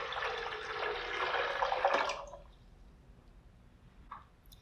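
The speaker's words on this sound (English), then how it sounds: "Next, we're going to add 3 cups of water" Water is poured from a cup onto soaked almonds in a Kuvings KPB-351 power blender, giving a close, gurgling splash for about two seconds that stops abruptly, followed by quiet and a single faint drip-like tap.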